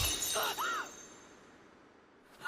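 Glass shatters loudly near the start of an anime scene, a sharp breaking burst with a ringing tail, then trails off into quiet under faint background voices.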